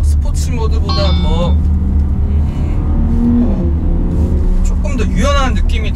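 A Porsche Panamera 4S in Sport Plus mode accelerates hard, its engine note climbing and resetting through rapid gear shifts, loud and close, with a voice talking over it.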